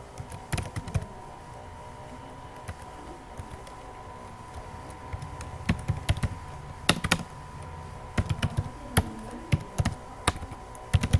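Code being typed on a computer keyboard: irregular bursts of crisp key clicks with short pauses, growing busier toward the end, over a faint steady hum.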